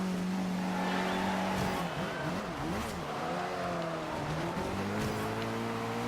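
A car engine in Forza Horizon 2 drones loudly and continuously during a race, its pitch wavering as revs rise and fall, with faint tire scrubbing underneath.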